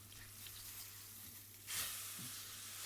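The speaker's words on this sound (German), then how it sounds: "Das richtig schön scharf auf einer Seite einmal anbraten, dann drehen wir es um." Beef seared in a hot pan gives a steady, close sizzle that swells louder about two thirds of the way through, with a faint low hum beneath and no voices.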